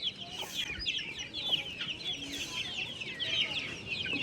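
Hens cluck almost continuously and close by on a farm where chickens are being kept cool in summer, with overlapping bursts of chatter and faint background noise.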